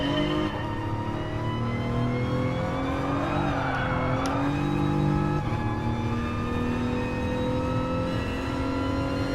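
A race car engine in a sim racing game drones steadily at high revs on stock setup, a continuous harmonic whine that shifts gently in pitch as the car drives on, loud and alone with no talking.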